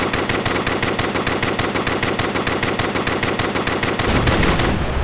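Machine gun fire as a sound effect, a rapid unbroken stream of loud shots in a steady rhythm for several seconds, close and dense with no talk.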